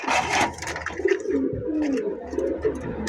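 A pair of racer pigeons coos softly at close range, low throaty calls repeating through a market setting, with faint rustling and no talking.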